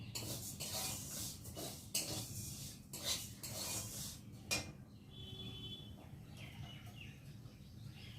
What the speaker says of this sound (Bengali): তার জন্য আর এইদিকে ডালটাকে একটু নাড়ি